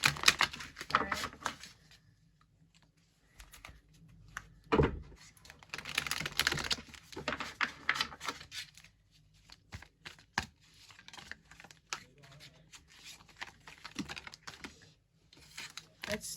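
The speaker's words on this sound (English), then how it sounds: "Oh my god, that was a bad shuffle." Tarot cards being shuffled by hand during a reading, giving soft papery riffles and slaps in irregular bursts, fairly close, with a few quieter gaps between handfuls.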